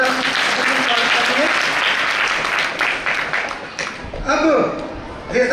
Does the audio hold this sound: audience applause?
yes